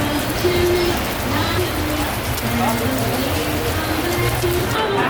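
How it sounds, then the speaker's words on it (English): Heavy rain pours steadily at Disneyland in California, a dense wash of falling water throughout with bird coos and people talking nearby underneath. "First time I've seen California raining this hard."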